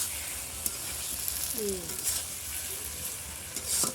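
A katla fish curry sizzles softly in a pan while it is stirred, with a low steady frying hiss and a few faint scrapes. It sits fairly quiet and close, and no one speaks.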